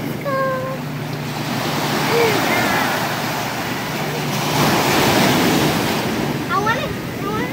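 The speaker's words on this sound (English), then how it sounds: "I'm waiting for the wave to like come and like," Surf rolls onto the sand at Newport Beach's Balboa Peninsula in a steady, loud wash that rises and falls, with brief voices and light wind noise over it.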